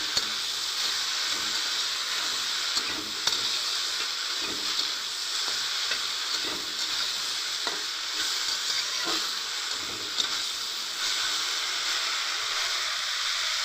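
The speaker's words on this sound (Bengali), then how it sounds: "একটু ভালো করে ভাজা ভাজা হয়ে যাক" Okra frying in a pan with salt: a steady, close sizzle and hiss that runs throughout, with scattered light crackles and a few soft stirring clicks, and no talking.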